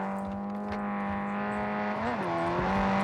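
A car approaches in the Warzone 2.0 video game, a steady whining engine drone that holds a constant pitch, then bends and dips around the two-second mark before resuming, continuous and moderately loud with no talking.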